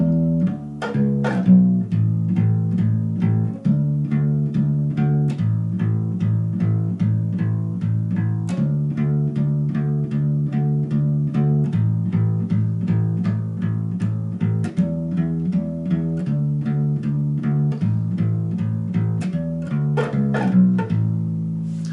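A bass guitar walks steadily through a twelve-bar blues progression in even quarter notes with a light accompaniment above, a continuous moderate-level groove with no talking.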